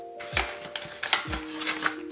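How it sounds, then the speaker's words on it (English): Scissors snip through the top of a plastic subscription bag with a couple of quick crisp cuts and crinkling plastic, close and fairly quiet, under a faint steady background hum. "I'm just gonna cut the top of the bag"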